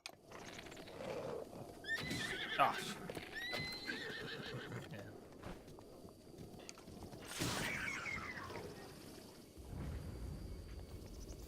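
A horse in the video game The Legend of Zelda: Breath of the Wild whinnies after being shot by an arrow, with clip-clop hooves and mechanical clatter around it over a steady game ambience, plus a short exclamation from a voice.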